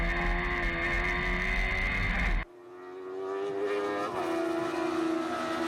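Several race cars pass in quick succession on a circuit, their loud engine note sweeping and shifting pitch as a Class A car with a much bigger engine overtakes; the roar briefly drops, then builds again as the next cars approach.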